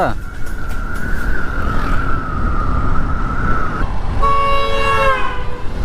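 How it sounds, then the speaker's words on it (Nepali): A vehicle horn honks on a hill road winding through tea gardens, where a cow lies in the way. A long, steady, loud blast comes close by near the end, over continuous engine rumble. "ल ल बजाऊ तिमी, बजाऊ तिमी हर्न"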